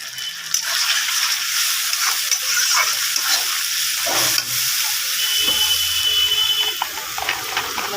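Spices with salt and turmeric being stir-fried in a pan for a fish and potato curry, a steady close sizzle with scraping stirring strokes throughout, no talk.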